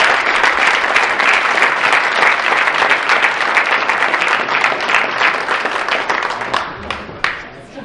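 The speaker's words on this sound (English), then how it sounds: "How about a nice round of applause for the senior class?" Banquet audience applauding the senior class, loud sustained clapping from a large crowd with scattered cheers, close and full, thinning slightly near the end.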